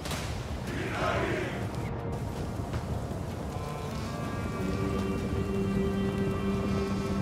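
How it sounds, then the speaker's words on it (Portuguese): Steady rain pours throughout a battle in the strategy game Total War: Pharaoh, a dense, loud hiss with a soft rumble of thunder and distant crowd noise beneath it. "Tá chovendo, cara."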